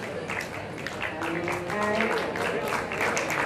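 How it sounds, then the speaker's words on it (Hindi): Audience applause for a judge at an Old Is Gold Nite music show, a steady crackle of many hands clapping at moderate volume, with a voice speaking over it. "एक बार जोरदार तालियां जी"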